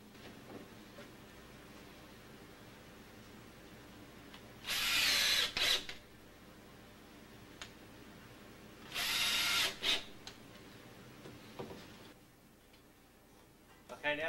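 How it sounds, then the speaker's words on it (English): Power drill boring holes into a door hinge pattern jig set on a door, two bursts of several seconds each separated by quiet with faint handling noises, close by. "We'll drill a hole in each side so that we can set it to the door."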